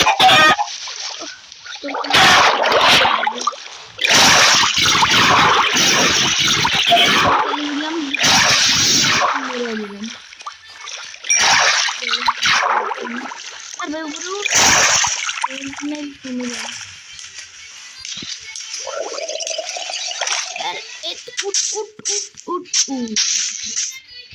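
Repeated bursts of splashing water with chickens clucking nearby, while a person talks at times between the splashes.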